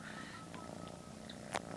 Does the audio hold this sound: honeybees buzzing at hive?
no